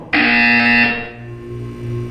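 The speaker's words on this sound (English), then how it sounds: "You will hear a buzzer." A loud electronic buzzer from the video game Portal 2 blares once for about a second, a harsh tonal drone that cuts off and leaves a low humming background.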